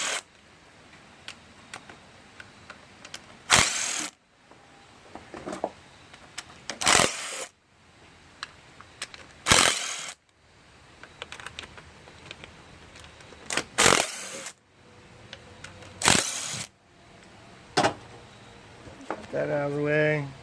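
Ratchet wrench loosening the small 8 mm valve cover bolts on a 2.4 litre engine swapped into a Neon, heard as short ticking bursts separated by pauses, with several loud clanks of tools or parts in between.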